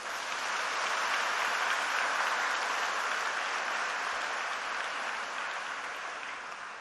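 An audience bursts into steady applause at a lecture, a dense, even wash of clapping that holds for several seconds and tapers slightly at the end, with no voices over it.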